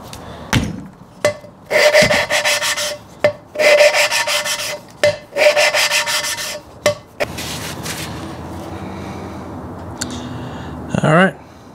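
Engine valves on a small block are lapped into their seats with lapping paste, giving repeated bursts of gritty rubbing and rasping separated by light taps and pauses, then a stretch of softer scraping.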